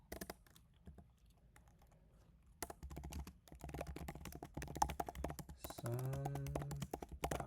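Code is typed on a computer keyboard during a programming lecture, with close, quiet, rapid key taps coming in irregular bursts and a brief voice near the end.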